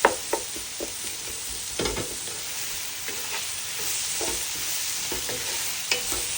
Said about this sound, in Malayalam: ഉള്ളിയും സവാളയും ചട്ടിയിൽ കിടന്ന് വരുന്ന സമയമുണ്ട്, വഴറ്റിയെടുക്കുന്ന സമയം.